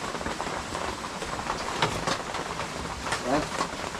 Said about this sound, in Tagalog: Ganyan talaga pag tag-ulan.